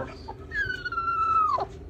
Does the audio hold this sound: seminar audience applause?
no